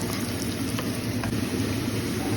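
Onions sizzling and frying steadily in a pan, browning for a Tamil mutton kulambu, a close, continuous crackling hiss with no talk.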